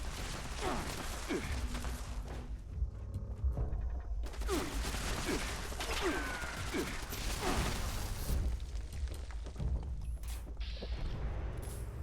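An automated turret in the video game Fallout 76 fires repeated rapid bursts, with clattering mechanical bursts and creaks over a low rumbling game ambience.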